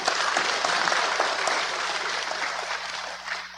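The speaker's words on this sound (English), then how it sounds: "give yourself a round of applause" Applause from a congress audience of agricultural workers fills the hall, a dense, even clapping that holds steady for a few seconds and then tapers slightly toward the end.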